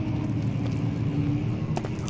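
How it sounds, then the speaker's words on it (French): A steady rockfall rumble in the video game Amnesia rolls on throughout, dense and continuous, with a brief crack of debris near the end. "C'était un bruit d'éboulement."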